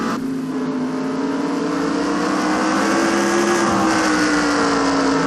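Racing car engines in a NASCAR video game race at Spa-Francorchamps: a loud, continuous engine drone whose pitch slowly rises and then falls slightly, as if a car is accelerating close by.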